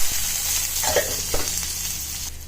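Onion, asafoetida, dried red chilli and curry leaves fry in hot oil with a steady close sizzle and a couple of brief spattering bursts, no voices.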